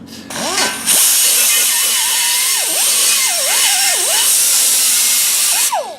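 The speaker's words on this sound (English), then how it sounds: "Just cleaning the back side of the hole so the weld will flow around it." A power tool cleans the back side of a hole in a wheel rim, starting with a brief spin-up, then a loud, close, sustained grinding whine whose pitch dips and rises under load before stopping.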